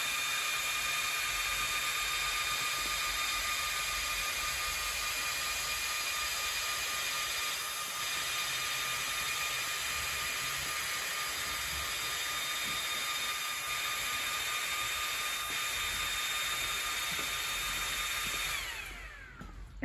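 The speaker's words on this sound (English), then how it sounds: "the first thing you notice is that the fan will turn on because the machine is moving" A cooling fan on an xTOOL 40 watt laser engraver runs steadily while the machine frames a job, giving a continuous high whine and whir at an even level that winds down at the end.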